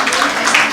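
Audience clapping during a talk on a malnutrition crisis, a dense, steady patter of many hands, loud and close, over its short span.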